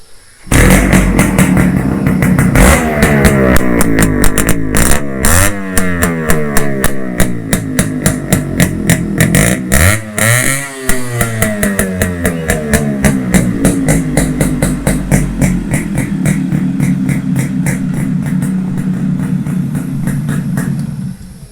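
Yamaha RX135 scrambler motorcycle revved through its exhaust, a loud close rasping two-stroke note that climbs and falls in repeated throttle blips over a steady idle, alone without speech.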